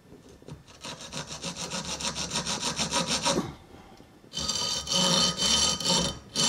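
Hand saw cutting through 2 mm aluminium sheet, a steady rhythmic run of close, even strokes, then a short pause before a louder, faster burst of sawing.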